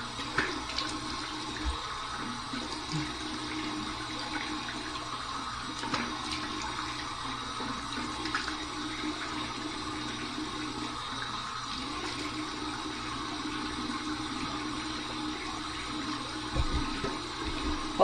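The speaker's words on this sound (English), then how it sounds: "Here's my warm water rinse." Warm tap water runs in a steady, even stream for a rinse during a head shave, close and continuous with small splashes, no talk.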